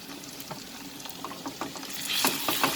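Onion and ginger garlic paste frying in a pan over medium flame, a soft sizzle with scattered crackles and stirring clicks, growing a little louder toward the end.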